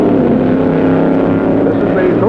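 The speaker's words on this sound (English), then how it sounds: "This is a slingshot dragster with a car body on it." A 1963 slingshot dragster with a car body and a 1957 Chrysler engine races, giving a loud, steady, roaring engine drone heard close up throughout.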